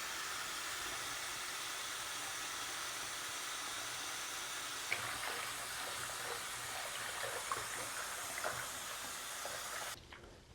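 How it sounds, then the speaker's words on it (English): Warm water runs steadily from a tap into a basin with wool wash for washing a knitted cardigan, a continuous hiss and gush close by, with faint splashes and clinks toward the end before it cuts off. "You'll notice I did put on the warm tap a little bit"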